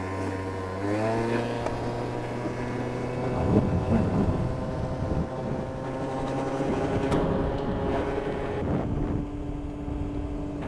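A 50cc scooter pulls away from a standstill on a trail-side road. Its small engine buzzes with a climbing, harmonic drone that rises in steps as it gains speed, close and steady, with wind rush underneath.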